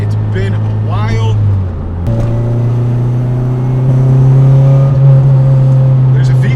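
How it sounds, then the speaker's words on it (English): Inside an Acura RSX on the highway, the engine climbs in pitch under acceleration, with VTEC engaging as the revs rise; a steady droning hum holds under talking from the cabin. "There's a VTEC kicking in."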